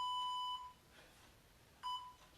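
Electronic workout interval timer sounds two steady beeps with a gap between them, each a clear tone, the first about half a second and the second shorter, with no voices during a hip thrust floor exercise.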